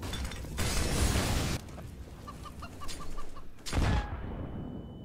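Chicken clucking in a video game, a short run of evenly spaced clucks in the middle, set between louder bursts of game noise at the start and end.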